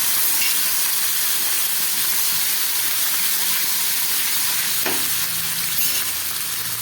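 Capsicum frying with ginger paste in a pan for a vegetarian paneer dish, a steady close sizzle and hiss that runs unbroken with a brief stir partway through, no talking.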